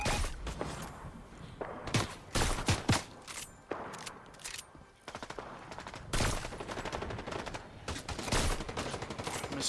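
Rapid gunfire from the video game Fortnite rattles out in dense, overlapping bursts and single sharp shots, loud and close, with heavy thumps between volleys and no talking.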